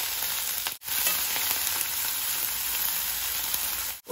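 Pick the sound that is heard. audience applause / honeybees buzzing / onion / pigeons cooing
onion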